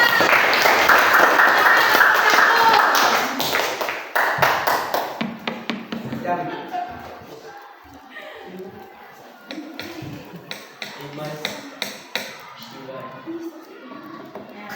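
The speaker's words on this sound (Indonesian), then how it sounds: "Berikan tepuk tangan semangat." A class of ninth-grade students in an Indonesian science lesson applauds as a group is called to the front. Loud, dense clapping fills the first five seconds, then fades into scattered claps, taps, shuffling and murmuring voices.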